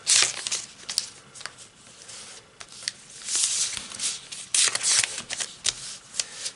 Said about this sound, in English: Take this paper and slide it out.